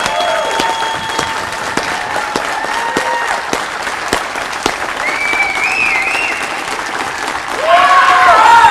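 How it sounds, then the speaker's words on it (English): An audience applauds for Pamela at a cartoon contest event, sustained clapping with scattered sharper claps and whistles, swelling louder toward the end as cheers and whoops rise over it. "Let us give her a big applause."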